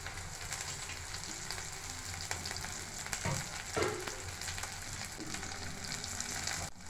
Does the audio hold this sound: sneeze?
no